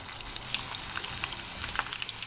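Pork skins fry uncovered in a non-stick pan as their fat renders, giving a soft continuous sizzle with scattered small crackles and pops, close and fairly quiet.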